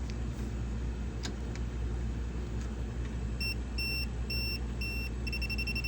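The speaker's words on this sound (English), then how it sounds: "That's a beep, yeah." Short electronic beeps from a household appliance being tested, a series of clipped tones repeating near the end over a steady low hum.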